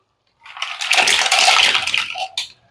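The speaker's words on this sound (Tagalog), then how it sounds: "Yung tahong kailangan hugasan pong maigi" Mussels being rinsed and swished in a basin of water, a short burst of sloshing and splashing that swells and fades within a couple of seconds, heard up close with no talking.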